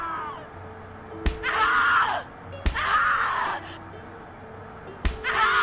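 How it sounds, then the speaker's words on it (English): A woman in The Cat Lady video game screams in loud, drawn-out bursts, each set off by a sharp slap or impact, repeating three times over a low droning background. "Scream louder, little bitch. Scream your lungs out."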